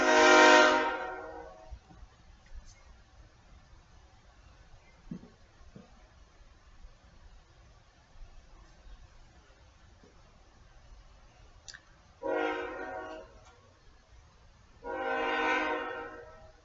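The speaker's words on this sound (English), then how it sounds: "sorry for the train." A train on a railroad track right beside a home sounds its horn: one loud blast at the start, a long stretch of faint low rumble, then two more strong horn blasts close together near the end.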